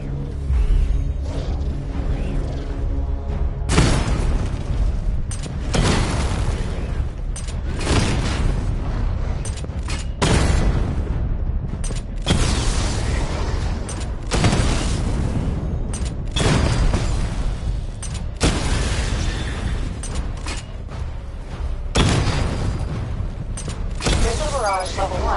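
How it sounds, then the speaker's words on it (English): A video game missile barrage sets off heavy booming explosions that land every few seconds in a loud, sustained sequence, with mechanical rattles in between. "Destroy targets to charge up weapon energy and activate missile barrage."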